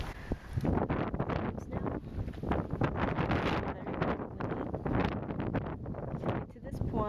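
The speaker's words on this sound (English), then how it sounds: "It's really windy." Strong wind in the Australian outback buffeting the microphone in heavy rumbling gusts, with a voice talking faintly underneath.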